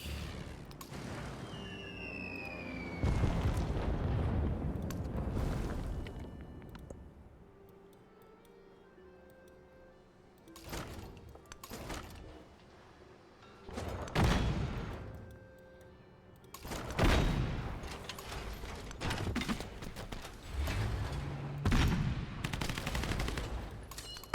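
Heavy bomber attacking a tank in the strategy game Civilization VII, rapid bursts of gunfire and booming impacts in several loud waves over a ticking clock and game music.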